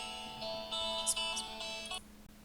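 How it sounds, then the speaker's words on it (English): A mobile phone ringtone plays a bright, repeating electronic melody of short tonal notes for about two seconds over a faint steady background hum, then cuts off. "That was my phone."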